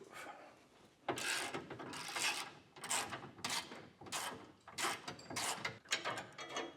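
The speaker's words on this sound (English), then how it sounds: "It's got a 15mm bolt that we need to remove." A ratchet wrench loosens a 15mm bolt on a spare tire bracket under a 2024 Chevrolet Colorado pickup. Repeated bursts of quick ratcheting clicks sound fairly quiet and close, separated by short pauses, with no speech.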